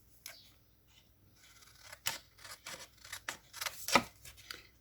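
Scissors snip around a stamped card, making a quick series of crisp, close cuts and rustles that grow busier toward the end, with no talk.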